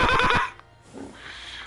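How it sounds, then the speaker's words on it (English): Call of a Brahmin, the two-headed mutant cow creature in Fallout 76, a short loud braying whinny that cuts off quickly and leaves a softer fading tail behind it. "Sounds like a Brahmin."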